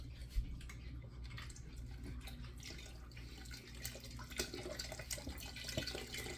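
Low sodium beef broth pours from cartons into a pot, a faint continuous liquid stream with small splashes and no talk.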